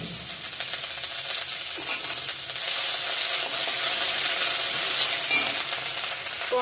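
Ginger fries in spiced oil for a potato and paneer curry, giving a steady, close hiss of sizzling with a few soft stirring scrapes and no talk.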